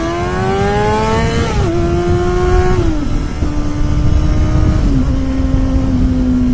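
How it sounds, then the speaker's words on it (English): A motorcycle engine revs steadily and loudly while the rider holds a wheelie, its pitch stepping down in a few short drops as the throttle eases, with no talking. "I've also been practicing wheelies."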